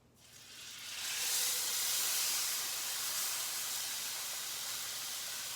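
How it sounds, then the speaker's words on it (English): Marinated meat hitting a hot pan for searing, a loud sizzle that swells within the first second and then holds as a steady, close, bright hiss for several seconds, with no talk. "Now what we want to do is just sear it."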